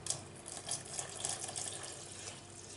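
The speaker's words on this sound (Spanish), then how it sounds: "ahora le voy a añadir 1 litro más de agua." A litre of room-temperature water is poured into a thick homemade liquid dish soap mixture, producing a faint, continuous splashing gush that lasts the whole clip.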